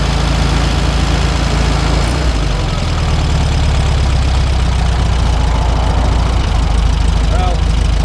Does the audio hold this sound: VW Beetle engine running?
yes